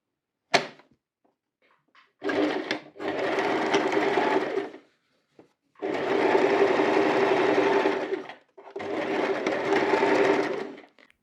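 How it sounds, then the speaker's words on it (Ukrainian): Sewing machine stitching a dart on a skirt panel, three steady runs of close mechanical whirring of a couple of seconds each, separated by short pauses and a sharp click at the start. "Шиємо виточку на передньому полотнищу спіднички"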